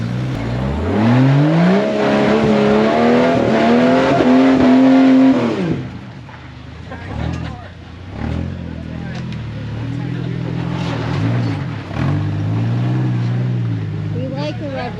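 An off-road vehicle engine climbs through the revs and bounces on the rev limiter for several seconds, loud and close, then drops to a rougher idle with short blips while a person talks.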